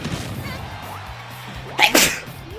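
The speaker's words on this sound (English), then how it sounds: "I gotta sneeze really quick." A single loud sneeze close to the mic, preceded by a quick sharp inhale, against a quiet background.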